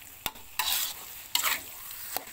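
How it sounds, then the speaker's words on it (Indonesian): Spatula scraping through a frying filling mixture for arem-arem with cooked chili in a hot pan, three or four quick stirring strokes each setting off a burst of sizzling, close and loud, no voices. "Oke, sekarang kita aduk lagi."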